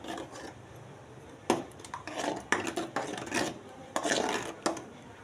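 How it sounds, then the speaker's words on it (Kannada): Tomato halwa stirred in a pan on a low simmer: rough scraping and rasping strokes come in irregular bursts with short sharp clinks of the spoon against the pan, close up and with no voices. "ನಾನಿವಾಗ ಇದನ್ನು ಹಾಕ್ಕೊಂಡು ಒಂದು 5 or 10 ಮಿನಿಟ್ಸ್ ಸಿಮ್ಮಲ್ಲಿ ಇಟ್ಬಿಟ್ಟು ತಿರುಗಿಸ್ಕೊತಾ ಇದ್ದೀನಿ"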